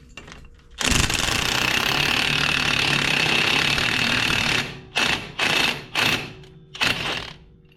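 An impact wrench fitted with a chrome socket hammers continuously for several seconds, then fires three short bursts and a final brief burst, loud and close in a garage during rear-end work on a 1979 hearse.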